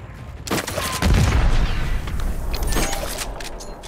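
A frag grenade explodes with a heavy boom about a second in during a Call of Duty match, amid rapid bursts of gunfire and crackling shots that continue to the end.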